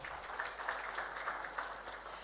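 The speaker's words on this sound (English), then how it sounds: "Please a round of applause for him." Faint, distant audience applause at a trade seminar, an even wash of clapping that holds steady and then tapers off.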